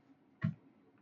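A single soft mouse click on a save button, short and close, set against a quiet room background.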